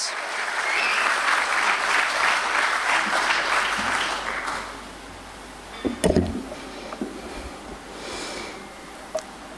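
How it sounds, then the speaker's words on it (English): A crowd claps steadily and loudly for several seconds at a stock exchange listing ceremony, then the applause fades out, leaving a quiet room with a few scattered noises. "Can we have a little louder round of applause, everyone?"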